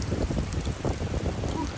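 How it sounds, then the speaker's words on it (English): Gusty wind buffeting the microphone at a lakeside in the Ansel Adams Wilderness, a rough, fluttering low roar that swells and dips in quick pulses, loud and close, with no talking. "Pretty windy down here."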